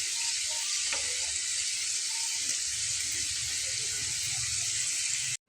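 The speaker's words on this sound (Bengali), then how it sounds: "কালারটা আরেকটু ডার্ক করে ভেজে নিয়ে তুলে ফেলবো বন্ধুরা" Crispy potato snacks deep fry in hot oil with a steady, bright sizzle that runs unbroken, broken only by a few faint clinks, until it cuts off abruptly at the end.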